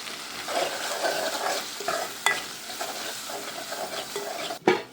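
Millet flour being stirred into stuffed karela filling in a pan, a steady close scraping and shuffling with a faint sizzle and a few sharper utensil knocks, no talking.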